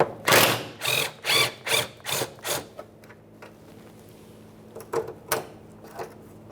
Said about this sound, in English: remove your 13mm mounting nut holding the emergency brake cable in place